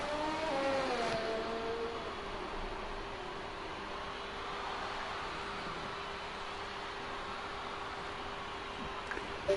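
Race car engines in a racing video game on the formation lap at Singapore, a steady droning engine hum with a brief rising rev near the start, continuous and moderately loud without voices.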